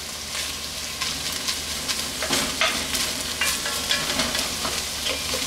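Pancit canton noodles stir-frying in a ceramic-coated cast iron pan, a loud continuous sizzle close by with scraping and tossing from the stirring layered on top.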